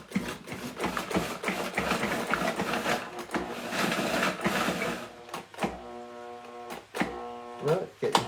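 Cuisinart food processor pulsing bread into coarse crumbs: loud, dense mechanical whirring and grinding in repeated bursts, with brief stops between pulses and a steadier motor hum toward the end.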